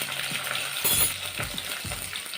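Mustard seeds, dals and asafoetida tempering in hot oil for a brinjal side dish, a steady sizzle with a few soft clinks of a spoon against the pan, close and alone.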